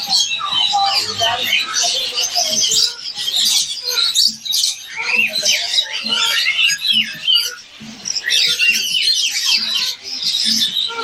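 Caged birds, including sparrows, at a Bangkok pet market keep up a dense chorus of bright, overlapping chirps and squawks that continues throughout over a low background murmur.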